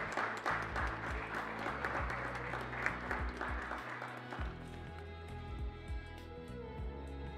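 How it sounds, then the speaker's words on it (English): Moderate audience applause for session speakers at a conference, a sustained patter of many hands over a steady low background hum, tapering off toward the end. "Can we have a big round of applause for the session speakers"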